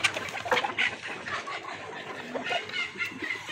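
Sonali hens on an egg farm give faint, scattered clucks and short calls, irregular and fairly quiet against low background noise.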